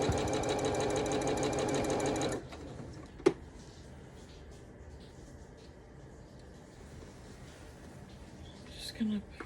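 A sewing machine stitches the sashing strips of a calico quilted table runner, a dense steady whir for about two seconds, then stops, leaving quiet room tone with a faint click.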